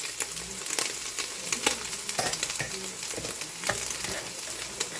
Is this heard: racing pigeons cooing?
no